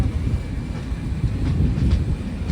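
The Puri Express rumbles into Gudur junction, a steady loud roll of wheels and carriages with faint clatter and no voices.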